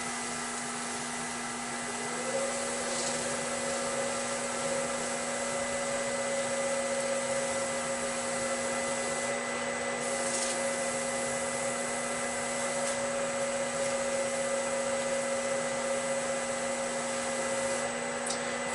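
A wood lathe spins steadily at 400 RPM while abrasive paste polishes the turned piece, a continuous close motor whine with a constant hum and faint rubbing, no talking.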